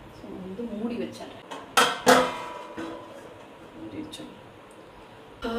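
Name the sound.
covering the pot of mutton gravy with a lid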